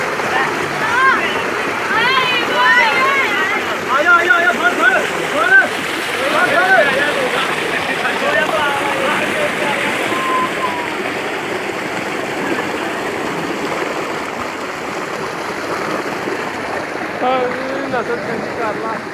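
Village children playing in water, with splashing, shouts and chatter mixed together in a busy outdoor scene, fairly loud and continuous with voices throughout.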